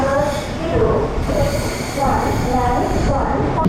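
A MEMU passenger train rolls past nearby on the Viluppuram to Chennai Egmore line, a loud, continuous rumble of wheels on rails with some metallic squeal, under faint background voices.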